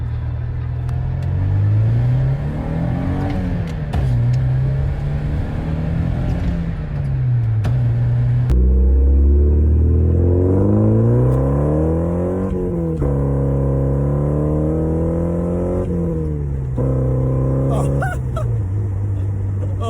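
A deep, throaty car engine revs up and down repeatedly, rumbling loudly nearby, its pitch rising and falling in waves with a sharper burst midway.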